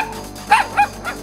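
A cartoon dog in the Toca Boca video game lets out two or three quick, close yips and barks in just over a second, with no talking.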